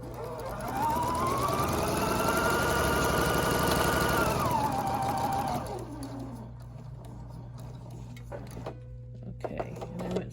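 A sewing machine stitches a seam on a Texas Star quilt block. It runs loudly and steadily for about five seconds, then winds down, leaving quiet handling clicks and a low background hum.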